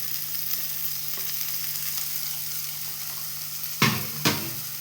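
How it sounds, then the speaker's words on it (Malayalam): Steady oil sizzle from a frying pan of corn masala, then two sharp hissing bursts as tomato goes into the hot pan near the end, close and clear with no talking. "ഇനി ഞാൻ തക്കാളി ഇട്ട് കൊടുക്കുന്നുണ്ട്."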